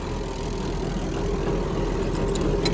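An old pull-started farm engine idling steadily nearby with a low, even rumble and faint knock, running alone at constant loudness.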